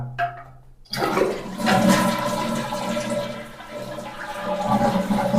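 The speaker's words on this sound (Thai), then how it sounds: "เดี๋ยวผมจะกดชักโครกนะครับ" A toilet with a blue deodorizing cleaner in the tank flushes with a sudden loud rush of water that swirls and gurgles steadily for several seconds, close by, after a faint click of the lever.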